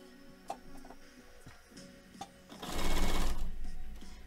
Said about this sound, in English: All right, let's sew these.